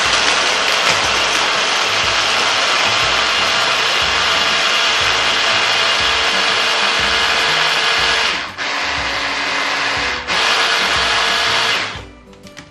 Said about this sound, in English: Many people ask me what blender am I using.